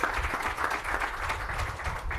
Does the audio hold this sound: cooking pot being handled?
no